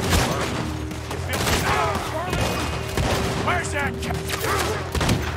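Heavy gunfire in the Western action game Red Dead Redemption 2, loud rapid bursts of shots and booming reports throughout a firefight, mixed with shouting voices and someone talking.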